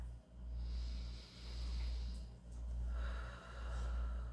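Slow, deep breaths during a postpartum core exercise, four soft, rhythmic inhale-and-exhale cycles heard close and quiet with no talking.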